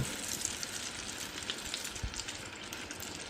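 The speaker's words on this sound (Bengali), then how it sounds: "এই কড়াইতে আমি সসেসগুলো ভেজে নেব।" Sausages frying in oil in a wok, a close, steady hissing sizzle with faint crackles throughout, no voices.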